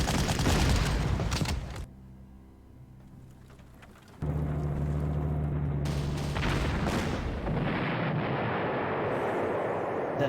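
Artillery firing on an anti-aircraft cannon in the Panzer Corps strategy game: a loud blast and rumble, a quieter lull, then a second sustained burst of booming fire and crackling explosions, with no voices.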